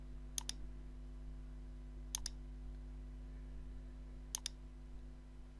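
A computer mouse double-clicking three times, crisp paired clicks spaced about two seconds apart over a low electrical hum, close and otherwise quiet.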